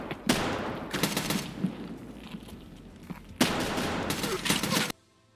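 Bursts of rapid automatic gunfire from a first-person shooter video game with a long-barrel weapon, two long volleys and a few scattered single shots, loud and sharp, ending abruptly.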